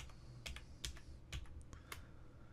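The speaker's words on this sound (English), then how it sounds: "if you hold the Alt key down on your keyboard and type in" Keys on a computer keyboard are tapped in a quick, uneven run of sharp clicks, close and fairly quiet, while an Alt code is entered.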